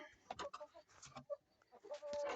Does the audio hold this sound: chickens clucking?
yes